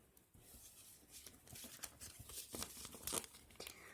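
Close, quiet crinkling of plastic packets, irregular rustles and crackles building slightly in intensity, with no voices.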